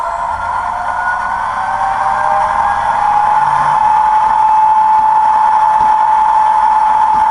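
An SD70MAC model locomotive's DCC sound decoder revs its diesel engine, a loud steady drone whose tone climbs and then holds at a higher pitch, with no voices.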